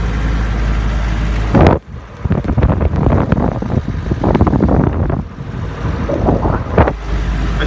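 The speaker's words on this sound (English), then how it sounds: "We're out in the snow in the Land Rover Series 3, 1976 88-inch diesel. That's why it's a bit noisy." A 1976 Land Rover Series 3 88-inch diesel in four-wheel drive through snow in Northern Ireland: a loud low engine drone with heavy wind buffeting and bumpy thumps, cutting out briefly before resuming rough and uneven.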